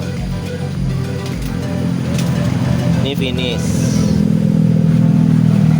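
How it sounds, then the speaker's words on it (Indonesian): An automatic scooter revs up during a test ride, a steady engine drone building in loudness under someone speaking Indonesian nearby. "Anggap aja nih saya lagi nyobain motor."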